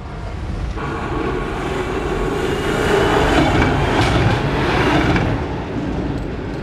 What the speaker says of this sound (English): High time for the first tram to cross the new track.